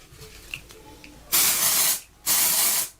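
Two loud hissing bursts from a dry shampoo aerosol can, each lasting over half a second, close by, after a moment of faint rustling.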